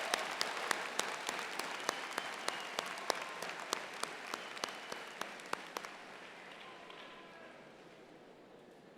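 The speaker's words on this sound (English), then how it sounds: "give your parents and those who have supported you a round of applause" A large crowd at a 2018 San Marcos high school commencement ceremony applauds steadily, a dense wash of clapping with sharper individual claps standing out, then fading and thinning toward the end; fairly distant and moderately loud.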